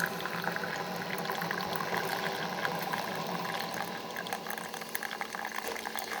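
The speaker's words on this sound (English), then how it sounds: "It'll take a few more seconds to brew than the normal 30 seconds." A Keurig K-Duo coffee maker brews a strong cup, pushing water slowly through a K-Cup with a steady soft gurgling, bubbling hiss and scattered small pops, fairly faint and continuous, without speech.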